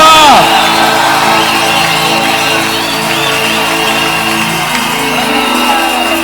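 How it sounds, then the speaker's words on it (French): A charismatic church congregation at an evangelistic gathering raises loud cries of joy, whooping and shouting together in a dense, continuous roar of voices that stays strong throughout. "On peut pousser les cris de joie."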